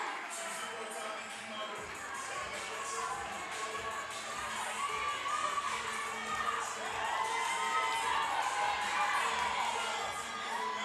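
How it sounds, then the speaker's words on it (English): A crowd at the Burn Boot Camp Athlete Games 2025 cheers on an athlete with continuous shouts, whoops and high-pitched yells from many people, fairly close and busy for the whole stretch. "Ackworth, Georgia cheering her on."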